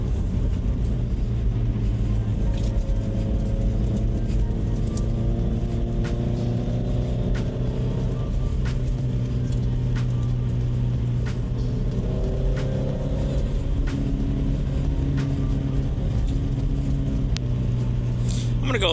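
A Honda Civic Type R drives through corners, its steady engine drone and road rumble continuous and fairly loud throughout, with a voice talking over it.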